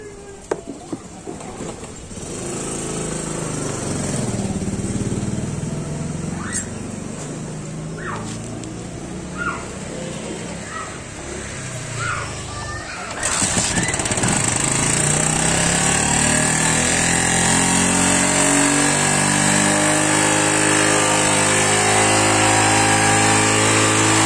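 A Motorstar Star X motorcycle fitted with a carburetor upgraded from 125 to 155 cranks and idles roughly up close, then about halfway through the engine surges louder into a steady, rising rev that holds to the end, with no talking.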